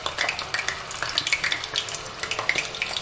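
Hot oil crackles and sizzles steadily as it heats in a frying pan before frying chicken, with scattered small pops over a continuous hiss, fairly close.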